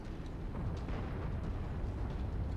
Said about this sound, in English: Did you know if you put jump jets on, the artillery can't hit you?